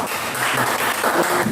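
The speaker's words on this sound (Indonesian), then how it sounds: "Tepuk tangan dulu di kelompok 1." Classroom applause for group 1 after their discussion results, a short burst of many hands clapping together, fairly loud and steady throughout.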